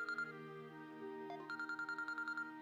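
A mobile phone ringtone plays indoors during a business meeting, a melodic electronic tune with steady harmonic tones, then a rapid run of short repeated beeping notes, moderately loud and with no talk over it.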